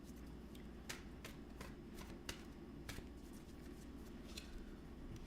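Tarot cards are shuffled close by in a quiet room, with soft continuous riffling and repeated crisp snaps and flicks of the deck and no voices.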